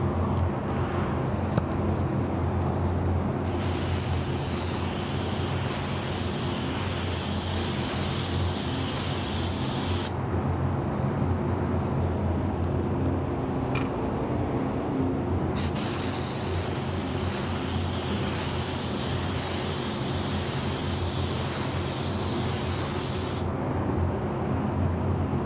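A spray gun lays down the first coat of candy paint in three long, steady hissing passes separated by short pauses, over a constant low background hum.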